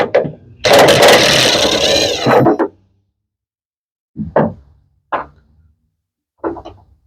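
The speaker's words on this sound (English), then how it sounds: "Start here by removing this side tie-down point with the T30 bolt." A close, loud whirring burst from a power driver with a T30 Torx socket spinning out a tie-down bolt in a Ford Maverick XL truck bed, followed by a few short clinks and clacks of metal parts.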